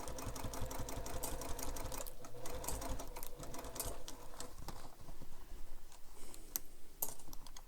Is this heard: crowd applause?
no